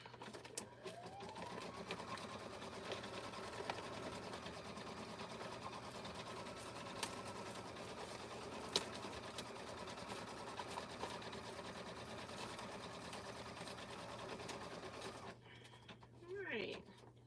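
An embroidery machine stitches name badges in a rapid, steady mechanical chatter that continues for about fifteen seconds, then stops, followed by a brief rustle.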